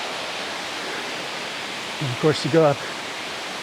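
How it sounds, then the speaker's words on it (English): A waterfall near the top of a hill on the Monk's Trail in Chiang Mai, Thailand, gives a steady, even rushing wash throughout, with someone briefly speaking over it near the end. "Check out the beautiful waterfall."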